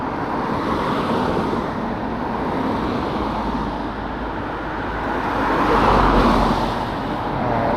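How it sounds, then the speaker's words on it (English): Road traffic, with many cars passing on a roadway in Orange County, heard from an e-bike as a broad steady rush of tire and engine noise with wind, swelling as vehicles go by. "oh my God, dude, look at all these cars"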